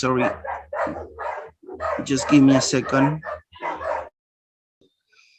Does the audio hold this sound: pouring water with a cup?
no